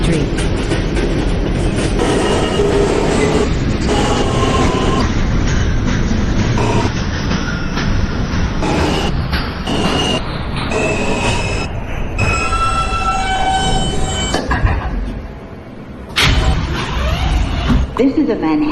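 A Manhattan-bound New York subway J local train running, with a loud, steady rumble and rattle from the car, wheel squeals, and clicks over the track, while a recorded announcement voice speaks over the noise.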